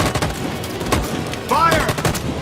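Soldiers open fire in Detroit: Become Human, a burst of rapid gunshots cracking through the whole stretch with some louder peaks near the end, shouted voices mixed in.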